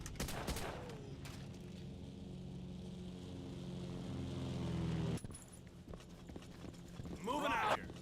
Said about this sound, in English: Now we got to get mad at the airplanes.